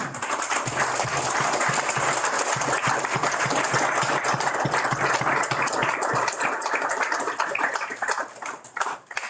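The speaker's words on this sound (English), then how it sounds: "please stand and join me in applauding the two officers being promoted today" Audience applause at a Guam Customs captain promotion ceremony, many people clapping loudly and continuously for two promoted officers, holding steady before thinning and tapering off at the end.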